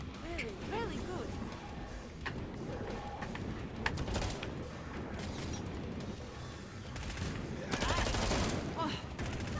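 Dense gunfire from the shooter Killing Floor 2, with rapid overlapping shots and bursts of automatic fire mixed with mechanical clatter and crashes throughout, a voice also talking over the steady din.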